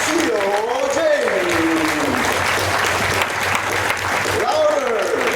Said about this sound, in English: So with a round of applause, let's welcome Dr. Lim Siow Jin.